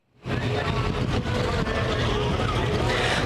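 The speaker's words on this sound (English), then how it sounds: "What a sharp-looking Camaro. Sounds good, too." A Camaro engine rumbles loudly and steadily as it passes close by in a small-town parade, starting abruptly and holding a dense roar for a few seconds.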